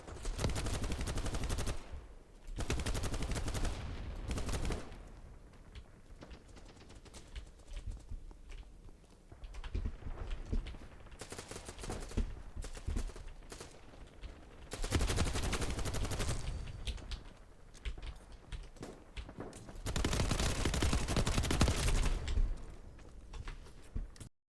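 Bursts of M249 light machine gun fire in the shooter game Battlebit, fired from a turret position: several long, loud rattling volleys separated by quieter gaps with distant battle noise.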